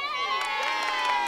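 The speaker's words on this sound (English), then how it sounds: "you couldn't miss the cheers" Recycling cheerleaders and the crowd at the 2011 Girdwood Forest Fair, outdoors among trees, shout and cheer in overlapping, high-pitched voices, loud and lively with sharp bursts throughout.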